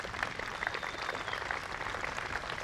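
Applause at an outdoor Memorial Day ceremony in Swampscott, a steady patter of many hands clapping at a moderate distance, with no talk over it.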